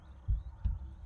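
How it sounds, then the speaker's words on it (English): A background heartbeat in the cat game Copycat: two deep, muffled thumps about a third of a second apart, soft and low over a faint hum, with no speech. "heartbeat in the background."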